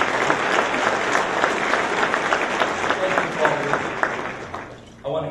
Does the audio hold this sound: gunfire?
no